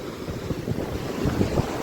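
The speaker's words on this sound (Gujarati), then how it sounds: "એ દરિયો દરિયો દરિયો" Sea waves washing onto the shore beside the Somnath temple on the Gujarat coast, a steady low rumbling surf mixed with wind buffeting the microphone, swelling slightly louder toward the end, with no voices.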